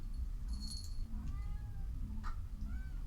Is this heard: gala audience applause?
no